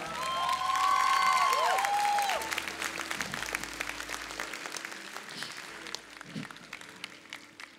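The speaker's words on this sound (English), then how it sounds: "a thundering round of applause for the man of the moment" A fashion show crowd erupts in loud applause and cheering for designer Manish Malhotra at his bridal couture show, with whoops rising over the start before the clapping thins and fades.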